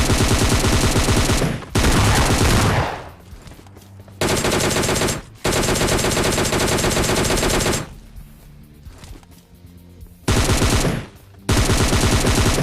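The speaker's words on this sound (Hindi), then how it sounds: "ऊपर इसने अंधाधुंध फायरिंग कर दी" Rapid automatic gunfire in PUBG Mobile Lite, loud bursts of sustained firing broken by short pauses and quieter stretches.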